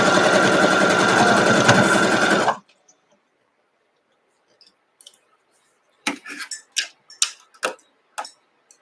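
A sewing machine stitches quilt block pieces in a loud, steady whir for about two and a half seconds, then stops, followed by quiet clicks and handling sounds of fabric and thread.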